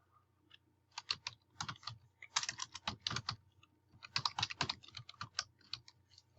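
Rapid keystrokes on a computer keyboard, close and crisp, coming in uneven bursts with brief pauses between words, and no voices.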